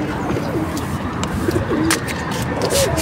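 Soft domestic pigeon coos come and go over a steady background hiss, a few low warbling calls spaced across the moment.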